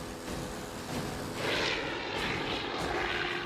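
Wartime rotary-engine aircraft flying past, a continuous distant broadband engine drone that swells slightly midway and stays steady, alone without voices.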